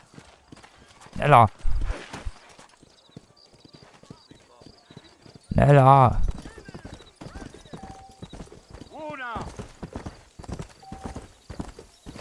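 Hooves clip-clop in a steady galloping rhythm in the video game Red Dead Redemption under a man's repeated urging, with a couple of louder bursts and a brief whinny.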